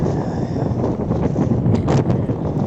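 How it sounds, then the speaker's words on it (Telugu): Strong wind at Meghamala, India, buffets the microphone with a loud, low, continuous roar that surges and gusts. "చూడండి గాలి అయితే విపరీతంగా వేస్తుంది"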